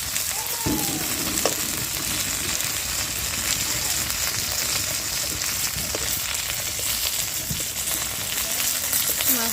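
Fish fries in hot oil in a pan, a dense continuous sizzle and crackle with occasional scrapes and clinks of a utensil, steady and close throughout.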